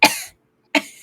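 Two sharp, close coughs from a man, separated by a short silence, each a harsh burst that trails off quickly.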